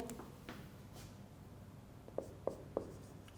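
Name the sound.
chalk or pen writing on a board during a lecture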